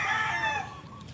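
Chickens in a backyard coop give a brief, close call of about a second that fades quickly.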